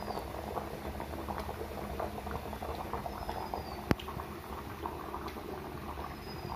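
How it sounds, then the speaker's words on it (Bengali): Meat curry bubbles steadily in a pot over a wood fire, a dense continuous simmering gurgle with soft pops, fairly quiet and close, and no voices. "কেমন ফুটছে সেটা দেখুন।"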